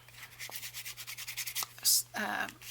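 Slick, heavily coated card stock has its edge scuffed in quick, light rubbing strokes, close and fairly quiet, ending in a couple of louder, harsher scratches.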